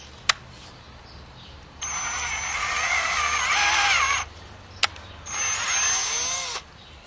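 Power drill boring holes into a log for mushroom inoculation, two sustained whining drilling bursts of a few seconds each with brief knocks between, close and fairly loud over quiet outdoor background.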